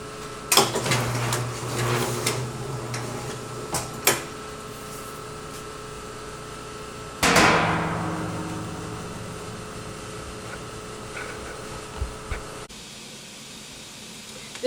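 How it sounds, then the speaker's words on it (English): An Italian labelling machine applies self-adhesive labels to champagne bottles, producing a steady mechanical hum broken by sharp clicks and clacks, with one louder sweeping clatter midway as a bottle passes through. "We have a specialized piece of equipment from Italy that puts self-adhesive labels on the"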